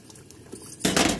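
Four eggplant pieces drop into hot oil in a kadhai, and after some light clinks the pan bursts into a loud, dense sizzle.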